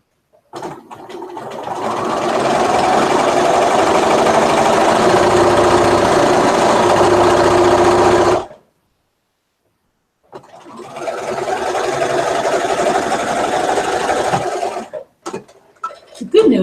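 A sewing machine stitches floral fabric for a Raggedy Ann doll dress, running in a steady close whir for about eight seconds, pausing briefly, then running again before stopping in short bursts.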